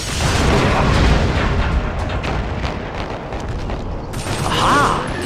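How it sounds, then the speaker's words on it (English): A grenade blows up in TimeSplitters: Future Perfect on the PS2, giving a loud, close, continuous roar and rumble that churns for several seconds with a few flutters of debris-like crackle. "Grenade!"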